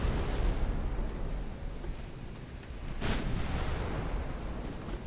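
Naval shells from battleships and cruisers in UA: Dreadnoughts thud and rumble as a continuous booming roar, with one sharper impact standing out midway through the dense, loud barrage.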